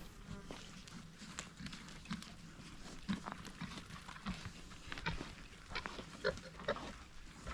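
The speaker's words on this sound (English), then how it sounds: "Feeder pigs are just about done with their food." Pigs grunting and snuffling as they crunch through feed, with scattered clicks and bumps of busy eating close by.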